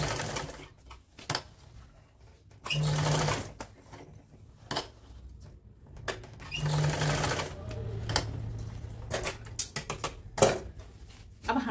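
A sewing machine stitches two joined ends of elastic together on palazzo pants, running in several short bursts of fast mechanical whirring separated by pauses, close and moderately loud, with handling clicks in between.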